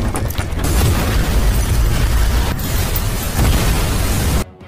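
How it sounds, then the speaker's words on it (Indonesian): A huge, roaring explosion fills the air with a dense, rumbling blast that sustains loudly for several seconds before cutting off abruptly into near silence. "Ledakan luar biasa pun terjadi."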